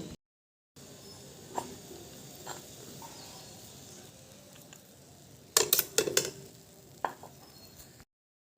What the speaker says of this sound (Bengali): মশলাটা ভালো করে মিশিয়ে নিই